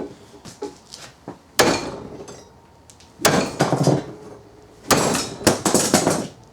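Wooden practice swords of red oak, white oak and hickory knock together in three bursts of sharp, hollow clacks, several quick hits per burst, loud and close with short pauses between.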